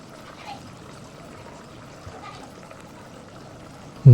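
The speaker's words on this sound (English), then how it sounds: "Next, I pour in about a liter of water." Water poured into a cooking pot of soup in a rural Vietnamese kitchen, a quiet continuous trickle close by, broken by a sudden loud thump at the very end.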